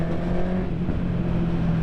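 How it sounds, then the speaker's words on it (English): A Honda CB650R motorcycle engine drones steadily at close range for a couple of seconds, a continuous rev held without pauses. "Proper shouty little bike."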